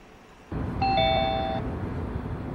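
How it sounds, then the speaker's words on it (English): A smart-home doorbell sounds a clear two-tone electronic chime, loud and close, with a steady hum of room noise continuing after it and no talk. "When the doorbell rings, a A camera sends an image to the terminals throughout the home"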